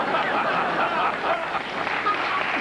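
A television studio audience applauding and cheering, a short steady burst of clapping that fills the room, with a host speaking over it.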